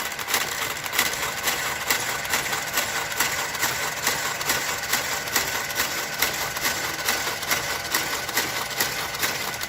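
A knitting machine carriage travels across a jacquard blanket in steady, continuous passes, giving a close, loud mechanical whirr and rattle with regular clicking pulses throughout and no talk.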